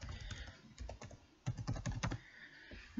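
Rapid clicking of keys on a computer keyboard as a password is typed, in uneven bursts with a short pause midway, close and fairly quiet, no talking.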